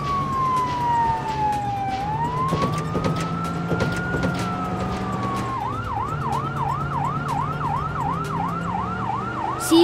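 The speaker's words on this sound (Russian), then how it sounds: "Это пожарная машина." A loud fire engine siren sweeps slowly up and down, then switches to a fast repeating wail, with engine rumble underneath and no talking.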